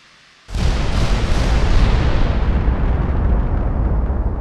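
Guardian missiles striking a warship in a naval combat game: a sudden loud blast after a brief quiet, then a sustained, heavy roaring rumble of explosions that continues without pause to the end.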